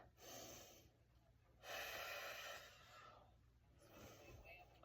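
Slow, deep breaths during a yoga session, with drawn-out airy inhales and exhales rising and falling in waves, close and fairly quiet.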